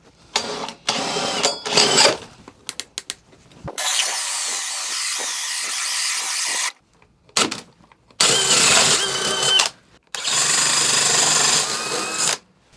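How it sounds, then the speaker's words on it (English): A jigsaw cutting a hole for mounting a cooler, heard as several loud, close buzzing bursts of a few seconds each, separated by short pauses and handling clatter, with no talk. "we can come in here with our jigsaw and cut this thing out"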